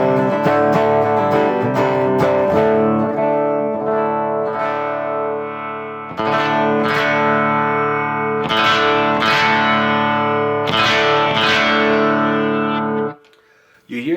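A vintage 1964 Gibson Firebird III electric guitar rings out loud and close in several sustained strummed chords, each struck anew and left to decay, with a brief dip to near silence at the end.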